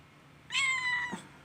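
A pet cat lets out a single clear, close meow lasting about half a second, with no talking around it.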